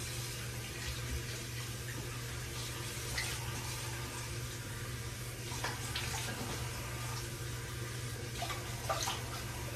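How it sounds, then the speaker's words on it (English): Water runs from a bathroom sink tap in a quiet room before a shave, a soft continuous trickle with a few brief splashes as water is scooped onto a face. "splash some water on my face"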